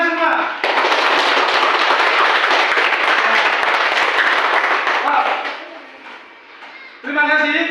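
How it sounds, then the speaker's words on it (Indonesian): Classroom applause from a group of students, a dense burst of clapping that runs loud and steady for about five seconds, then tapers off before a voice resumes speaking. "Tepuk tangan untuk kita semua."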